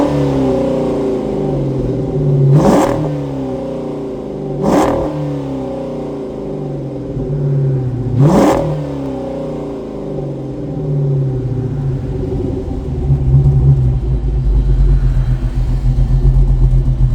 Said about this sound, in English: I couldn't let you leave without hearing a little bit of rev